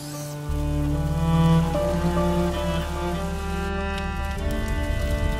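Rain falls in the video game A Plague Tale: Innocence. A steady, even hiss of rainfall runs under the game's sustained orchestral music, with no talking.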